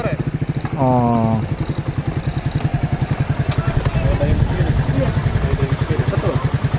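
A motorcycle engine runs with a steady, rapid pulsing thump close by, while people talk over it throughout.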